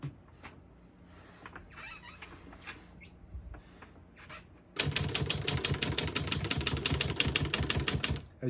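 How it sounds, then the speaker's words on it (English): A 1923 antique desktop typewriter is handled with a few scattered mechanical clicks, then a fast, steady run of sharp keystrikes clatters close and loud for several seconds, with no talk. "We're going to keep it on single for now and finish typing."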